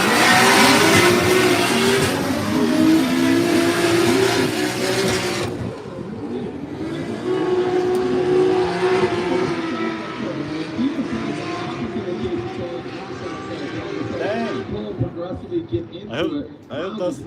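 A Formula Drift car at a Utah ProSpec warm-up roars loudly through a drift run, its engine revving hard and holding a strained, wavering tone for most of the pass before fading, with a commentator talking over it.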